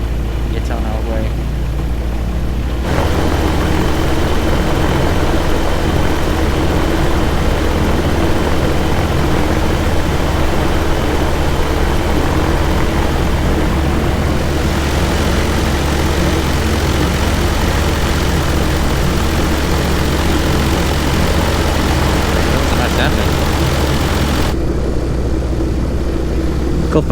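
A light propeller aircraft's engine runs steadily and loud on the ground at taxi power, holding short at a runway, with a constant droning whir throughout and a slight shift in tone midway.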